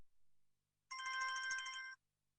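A mobile telephone ringtone plays once for about a second, a clear electronic tone burst, mid-distance and fairly soft. The surroundings are otherwise quiet and no one talks.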